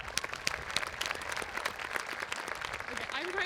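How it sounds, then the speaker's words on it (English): A high school graduation audience applauds in a dense, continuous wash of clapping from many hands, with some crowd voices mixed in. "Can we give her one more round of applause?"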